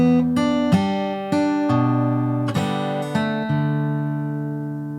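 Fingerstyle acoustic guitar plays a variation on a song's riff, with plucked notes and percussive slaps ringing out in a steady pattern, close and clear with no talking.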